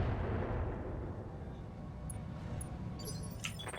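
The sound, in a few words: indirect artillery fire on turrets in video game Roguetech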